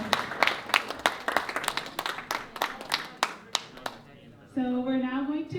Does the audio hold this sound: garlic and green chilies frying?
no